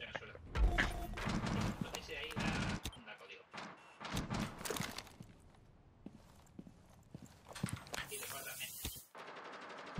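Rapid bursts of weapon fire in a Spanish-language online shooter game, with repeated sharp shots and mechanical clatter mixed with game effects, while someone talks excitedly over the action.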